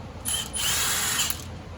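A power tool whirs close by as it spins out transmission bolts during a rear main seal replacement, in one steady high-pitched burst lasting about a second.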